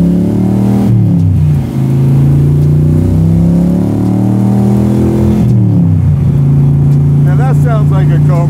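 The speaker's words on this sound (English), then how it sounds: "Sounds like a Cobra though." Superformance Shelby Cobra MkIIIR with a 7.3L Godzilla V8 and side-pipe exhaust, a loud, close, steady burbling engine note that dips and rises as it is revved twice, with faint voices underneath.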